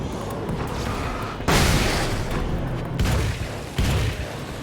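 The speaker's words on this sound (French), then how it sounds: "Grenade!" Grenade explosions in the video game Alan Wake's American Nightmare, several heavy booming bursts, the first loudest, rising over a continuous rumbling game background.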